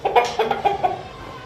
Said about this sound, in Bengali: এগুলোকে বলে আচিল ফাইটার মোরগ মুরগি